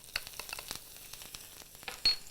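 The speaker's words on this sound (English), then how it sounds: "I'm just going to stir those around in the oil for about 30 seconds" Shredded garlic and ginger are stirred around in hot oil, giving a faint, crackly sizzle with scattered clicks and scrapes from the stirring and a brief louder spatter near the end.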